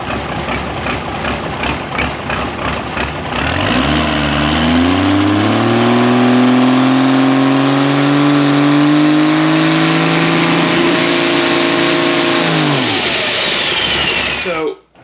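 Turbocharged drag race car engine spooling up and held on the rev limiter at 23 psi of boost, a loud, steady, close roar with rising pitch that holds flat for several seconds before cutting off abruptly.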